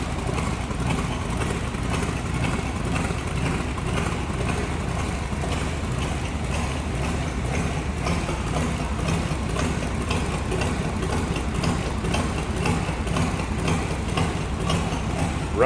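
A 1931 Ford Model A Roadster street rod with a steel body and an old-school Edelbrock intake manifold idles smoothly, a steady low engine rumble heard close up and continuously, with no talking.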